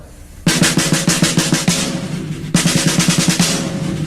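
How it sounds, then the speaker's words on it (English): A nine-stroke drum roll played on a snare, alternating doubled strokes in two loud, even, rapid bursts, close and clear with no talking. "let's look at the 9 stroke roll now."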